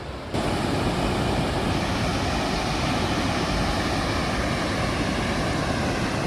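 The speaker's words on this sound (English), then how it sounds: "Hear the falls down there." A steady broadband roar of rushing water fills the clip without a break, like a waterfall heard from fairly close by.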